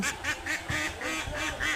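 A flock of ducks on a farm quacking in quick repeated bursts, close and steady, with no talk over them.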